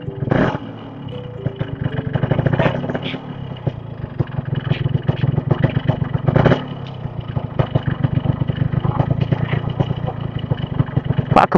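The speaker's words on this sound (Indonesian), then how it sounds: "Ya, urip ke motorku coba." Motorcycle engine starting up and revving in repeated throttle blips over a rough idle, close and loud, with people talking around it.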